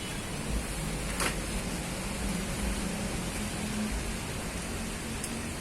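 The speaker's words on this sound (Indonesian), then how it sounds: "Hujan sudah mulai reda." Rain falls as a steady, even hiss with soft patter and a low background hum, continuous and moderately faint with no talking.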